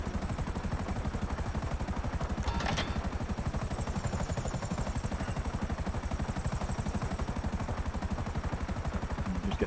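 A video game helicopter hovers with a steady, rapid rotor chop throughout, close and constant, with a brief whoosh early on as a crate drops, and no speech.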